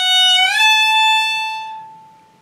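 A single sustained bowed violin note slides upward in pitch as it shifts position, then holds and slowly fades out.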